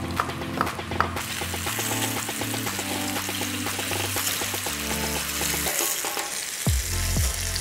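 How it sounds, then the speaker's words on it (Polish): Fava bean cutlets fry in a pan with a steady, dense sizzle that runs throughout, close and fairly loud, with a few clinks and light utensil sounds over it. "kotleciki smażą"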